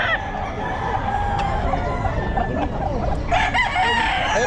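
Roosters at a Bocaue pet market crow and cluck amid a busy crowd, with a clear crow rising near the end over steady market noise.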